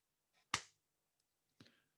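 A single close, sharp hand clap marking the start of a radio interview recording, followed a second later by a softer short knock or clap in an otherwise quiet room.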